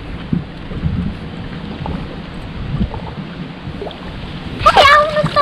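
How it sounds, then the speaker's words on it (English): Strong wind buffets the microphone beside a river during a bass fishing tournament, a steady low rumbling roar with gusty surges, joined by a brief tonal, voice-like sound near the end. "The wind was terrible right here, so I figured you'd rather hear me talk than listen to the wind blow."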